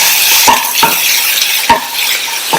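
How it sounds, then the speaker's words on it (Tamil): Potato dosa filling being lightly sautéed in a pan, with a steady bright sizzle throughout and a few soft scraping stirs of a spoon against the pan, loud and close with no voices. "எல்லாத்தையும் லைட்டா 1 நிமிஷம் வதக்கிட்டு"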